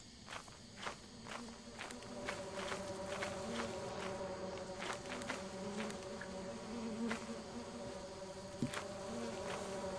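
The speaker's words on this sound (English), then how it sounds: "No, I heard bees." Bees buzzing inside the Lethal Company video game, a steady insect drone with quick footsteps tapping over it throughout.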